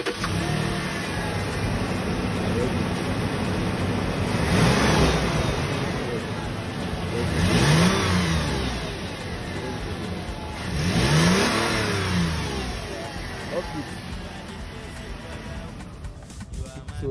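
A Toyota 4Runner engine with a stolen catalytic converter idles nearby, then is revved three times in swelling bursts with a rough, throaty exhaust note, settling back to a steady rumble between.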